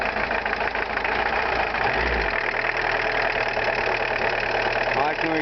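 Volkswagen Golf 2 turbo diesel engine idling with its bonnet open, a steady low diesel clatter and rumble with a slight vibration, heard close up; a brief deeper thump occurs partway through, and a voice may be faintly present.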